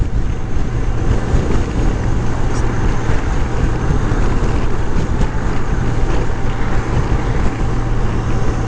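Wind rushes around a motorcycle fairing while riding, a constant loud, close buffeting roar with no pauses throughout.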